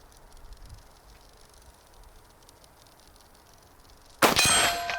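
A bullet from a WWII-era French or Italian small arm strikes a steel target with a single sharp, ringing clang that decays after a long quiet stretch.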